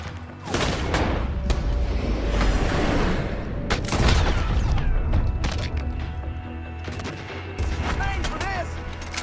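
A Gatling gun in Red Dead Redemption 2 fires in loud, dense bursts of sharp reports and booms during a ranch-house shootout, mixed with shouting voices and crashing impacts.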